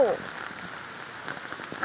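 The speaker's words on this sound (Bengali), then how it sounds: "এই যে দেখেন কত যে বৃষ্টি আল্লাহ গো" Heavy rain after days of downpour, falling steadily and close by as a dense, even hiss of drops striking surfaces, unbroken for the whole stretch.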